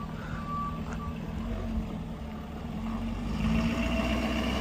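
A 2012 Ford F450 XL Super Duty four-wheel-drive dually flatbed truck idles steadily with a deep, continuous diesel-like rumble, close and moderately loud, with a faint beeping tone early on and no speech.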